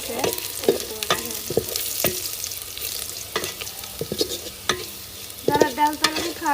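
Onion and garlic frying together in a pan, a steady close sizzle broken by repeated scraping stir strokes and light clinks of a utensil against the pan, with a louder burst of stirring near the end.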